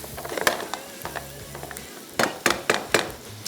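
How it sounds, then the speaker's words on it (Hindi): Onion and garlic sautéing lightly in a pan, with a soft sizzle underneath and a few sharp scrapes of stirring, the last ones louder and evenly spaced. "थोड़ा सा इसको किया फ्राई।"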